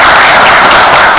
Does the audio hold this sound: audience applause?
yes